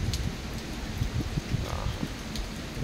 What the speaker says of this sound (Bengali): বেশ ভালো বৃষ্টি সকাল থেকে চলছে